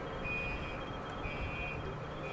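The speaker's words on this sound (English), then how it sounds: "alarms are going off like crazy right now" Alarms sounding after tornado damage near a torn-apart bank building: a steady, continuous electronic tone with a long held pitch, moderately loud over constant outdoor background noise.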